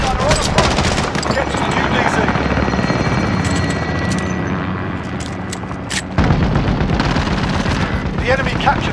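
Video game combat fills the scene with loud, close bursts of automatic gunfire and heavy blasts over a droning helicopter rotor, while voices call out over the din.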